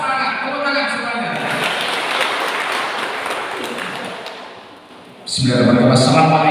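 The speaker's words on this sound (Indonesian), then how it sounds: "Tepuk tangan semuanya." An assembly audience at a village civil-protection training claps steadily for several seconds after a spoken cue, tapering off before a voice resumes loudly.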